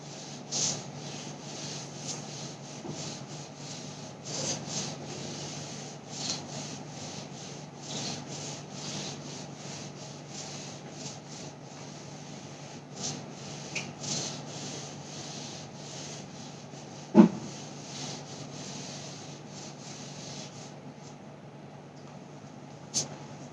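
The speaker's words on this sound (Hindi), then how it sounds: "ऊपर की चीज को मैं रब करने चल रही हूँ" Someone rubbing out writing on a board during a Hindi lesson, a steady soft scrubbing swish that continues for many seconds with faint irregular strokes and one sharp tap near the end.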